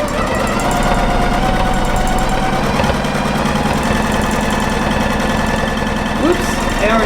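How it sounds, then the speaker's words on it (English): A sewing machine runs steadily during free-motion quilting, a close, loud, rapid mechanical chatter with a constant rhythmic stitching pulse throughout. "So I sew a few in place."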